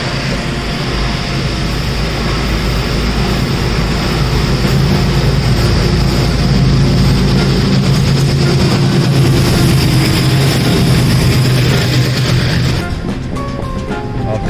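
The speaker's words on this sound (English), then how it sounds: "This is a diesel locomotive." A loud, steady diesel locomotive engine on an Indian railway line from Kerala to Mumbai rumbles continuously with a deep drone and mechanical clatter throughout.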